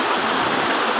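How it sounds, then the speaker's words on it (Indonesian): Small river stream flowing steadily, a dense close rush of water with no pauses and no voices over it. "masih ada anak sungai lagi"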